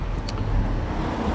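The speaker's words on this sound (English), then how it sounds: "Really heavy congestion of traffic." Steady road traffic rumbles through the town of Abercynon, with continuous engine noise from passing cars, close and fairly loud, and no talking.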